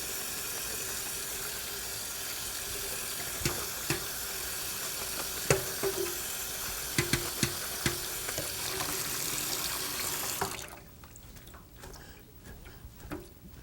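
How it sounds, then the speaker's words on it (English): Tap water runs over salted bitter melons in a colander, a continuous hiss with scattered clinks and knocks from handling, then the flow stops and a few faint clatters follow. "Tip it through a colander. You have to rinse off all the salt"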